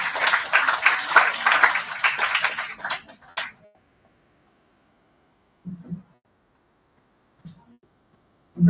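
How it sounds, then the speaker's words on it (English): An audience at an international college conference in Vijayawada applauds loudly for about three seconds; the clapping stops abruptly, leaving near silence broken by a few faint thumps. "Come on, with a big round of applause."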